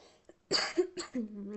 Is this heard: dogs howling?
no